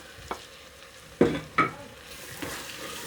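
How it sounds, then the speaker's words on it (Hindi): Onions, ginger garlic paste and tomatoes cooking in a pan for turnip bharta, with a few sharp stirring scrapes over a faint sizzle, close and fairly quiet. "अब इनको अच्छी तरह भूनेंगे।"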